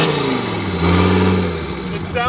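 A straight-piped Mercedes engine idles with a loud, rough, throaty rumble and swells into a brief rev, heard up close and dominating the scene.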